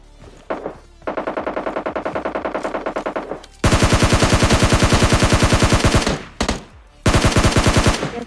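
Rapid automatic gunfire from a video game, with a long burst followed by a louder, closer sustained volley and short follow-up bursts.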